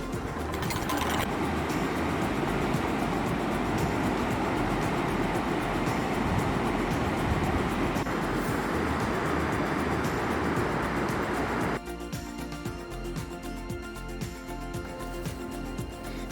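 Steady, loud rush of water pours from White Waterfalls on a mountain hiking trail, a dense unbroken roar that drops slightly in level and turns somewhat grainier near the end.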